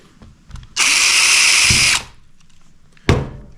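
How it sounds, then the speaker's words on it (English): A power drill bores into a thick polyethylene kayak hull, one loud, steady high-pitched whine lasting just over a second, then a short sharp knock. "So let's go ahead and drill a hole."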